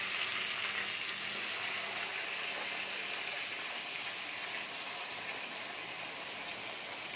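Potatoes fry in a pan of oil for a spinach and egg dish, giving a soft, even, continuous sizzle with a faint bubbling hiss and no speech.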